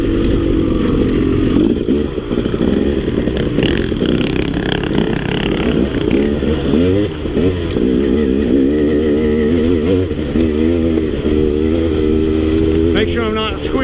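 Off-road ride on a dirt bike such as a Kawasaki KX 450 or KTM 300 or 250, its engine droning steadily and loud throughout with revving pitch changes as the rider eases along.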